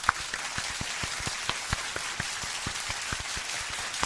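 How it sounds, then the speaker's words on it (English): A small live-show audience gives a round of applause, a sparse patter of separate claps that carries on steadily and evenly with no voices over it. "A big round of applause for the people that got it done tonight."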